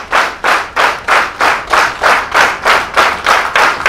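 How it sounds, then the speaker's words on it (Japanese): Rhythmic, unison clapping from a pro wrestling crowd at Shinjuku FACE for Mei Suruga's 4th anniversary main event, about eight loud, evenly spaced claps with no talk over them. "さあ拍手が鳴りやまない"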